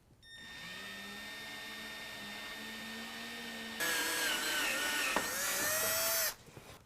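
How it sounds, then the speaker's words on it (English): A power drill bores a pilot hole into a 2020 Ram 2500 for mounting AMP Research power steps. A steady motor whine runs first, then the bit bites hard into the metal with a louder, harsher grinding before stopping abruptly. "Now I'm going to drill my pilot hole."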